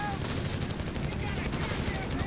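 Bursts of .50 cal machine gun fire crackle in a Company of Heroes 3 battle, with a rapid, continuous rattle sitting under a commentator's talk.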